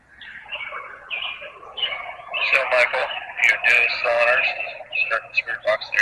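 Spirit box radio scanning in a cemetery, a choppy stream of sweeping static and broken fragments of sound, close and fairly loud, with voice-like snippets flickering through the noise.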